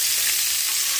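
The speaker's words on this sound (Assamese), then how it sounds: "কাটি থোৱা পনীৰখিনি ধুনীয়াকৈ ভাজি ল'ম" Paneer pieces fry in a little oil in a wok with a dense, continuous close-up sizzle and crackle, loud and even for the whole moment, with no voices.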